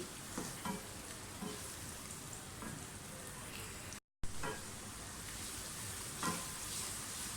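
Onions sizzle steadily in hot oil, a soft crackling hiss with occasional stirring scrapes, fairly quiet and close, broken by a brief dropout midway.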